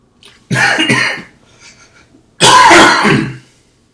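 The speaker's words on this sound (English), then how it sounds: "apologies for the coughing" Two loud, harsh throat-clearing coughs up close, a double hack followed by a quieter pause and then a longer, rougher cough.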